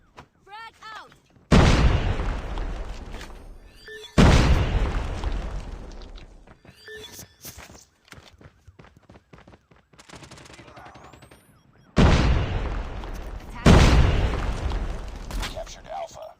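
A shooter video game's battle rings out with several heavy booming blasts and rattling bursts of gunfire, loud and up close, separated by quieter stretches with small effects, while players talk intermittently.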